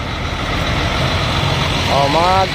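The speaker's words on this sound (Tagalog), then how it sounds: "Talagang matinding traffic." Heavy road traffic with trucks idling in a long two-way jam produces a steady low engine rumble, close and continuous, while a voice briefly talks near the end.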